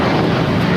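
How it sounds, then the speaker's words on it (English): A JetBlue Airbus A321 jet rolls down runway 25 right at LAX on departure for Boston, giving a loud, steady broadband roar that fills the brief moment without a break. "that JetBlue A321 now rolling down to 25 right"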